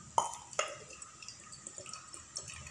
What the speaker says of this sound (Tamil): இப்போ இந்த தண்ணியை வந்து ஒரு டம்ளரில் ஊற்றி வச்சுக்கலாங்க